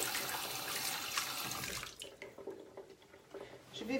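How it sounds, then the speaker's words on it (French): A paintbrush is rinsed under running tap water, a close splashing stream that is loud at first and then thins to softer trickles and drips. "je vais le rincer."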